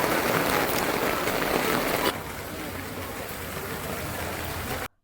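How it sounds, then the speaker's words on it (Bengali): Heavy rain pours down steadily as a dense, loud broadband hiss, easing slightly to a softer but continuous wash midway before cutting off abruptly near the end. "বৃষ্টির আওয়াজটা একবার শোনো জাস্ট।"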